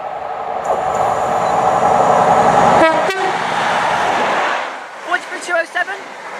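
A heavily delayed Glasgow Central to Paignton passenger train runs through Water Orton station with a loud, steady rail roar. Two short horn blasts sound midway, and the noise then fades into quieter clatter.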